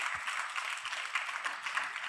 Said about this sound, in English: Please give Pandita Deviji a round of applause.